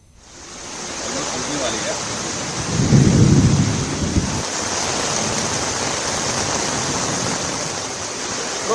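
Heavy rain pouring down in Delhi, a loud steady broadband hiss with a low rumble of thunder swelling briefly in the middle, with no talk.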